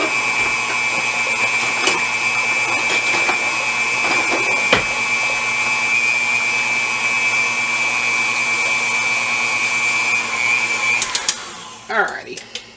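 An electric mixer beats pumpkin dessert batter with spices and eggs in a steady, loud motor whine that holds for about ten seconds, then cuts off, leaving a few soft clinks and bowl sounds.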